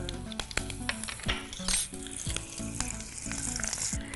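Cloves, cinnamon, star anise, asafoetida and curry leaves sizzle in hot oil as a tempering for drumstick dal, a close, bright spitting sizzle punctuated by the clink of a spoon stirring the pan.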